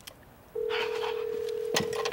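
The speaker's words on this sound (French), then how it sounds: "Le téléphone sonne." A telephone in a French TV drama scene gives a steady electronic tone. It starts after a brief quiet moment and holds evenly for about a second and a half, close and clear, with faint background murmur.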